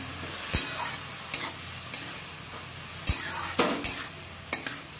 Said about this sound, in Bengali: আলুটা একটু ভেজে নিয়ে লাউটা আমি ছেড়ে দিয়েছি